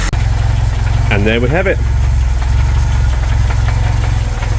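VW Polo 86c engine idling after a carburetor base plate repair, a steady close low rumble with an even knocking pulse, as someone speaks briefly over it.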